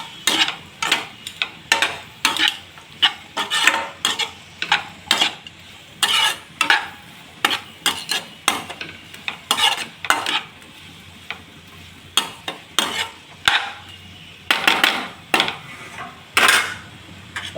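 Meal maker and capsicum curry is stirred in a pan with a spoon, producing sharp repeated scraping and clinking strokes in an uneven rhythm over a low background sizzle.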